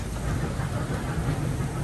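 A ride-on park train pulls away in a steady, close rumble with a low mechanical drone. It runs continuously and alone through the short moment.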